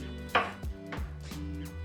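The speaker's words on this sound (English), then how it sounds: "I'll slice the peppers in a sort of rangiri, which is typically a rolling cut" A knife chops steadily through bell peppers on a cutting board with a rolling cut, a few crisp cuts with resonant thuds against a humming kitchen background.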